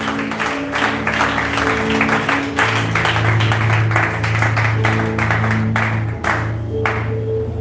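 Church congregation clapping steadily throughout, a dense continuous wash of applause with sustained organ or keyboard tones underneath.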